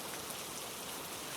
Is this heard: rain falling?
yes